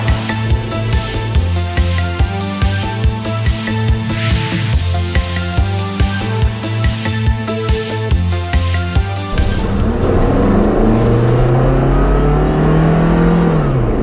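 A 1996 Toyota Previa Supercharged minivan driving on the street, first under a loud rhythmic music bed, then a steady engine and road drone with a rising supercharger-like whine in the final seconds.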